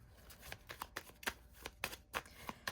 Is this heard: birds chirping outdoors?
no